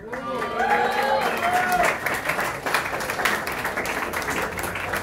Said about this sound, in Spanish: yo creo que el aplauso es para ustedes mismos